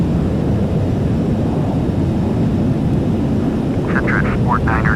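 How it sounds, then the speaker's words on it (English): Airliner jet engines roar steadily at takeoff in the FSX flight simulator on an Atlanta runway, a loud constant low rumble throughout. A radio voice cuts in briefly near the end. "Cleared for takeoff, runway 27 right"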